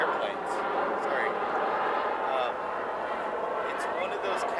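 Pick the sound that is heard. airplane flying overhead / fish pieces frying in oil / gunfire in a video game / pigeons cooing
airplane flying overhead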